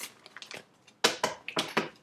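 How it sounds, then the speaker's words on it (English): Quick riffling bursts of cards being shuffled, a few light flutters followed by several louder, crisp rippling shuffles close by. "I keep shuffling these cards."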